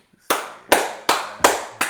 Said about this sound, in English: I'm gonna give myself a clap.